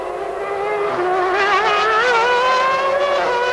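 Formula 1 race cars at the 1995 Brazilian Grand Prix: a loud, continuous high-pitched engine whine with shifting pitch as cars scream past, sustained throughout with no talk.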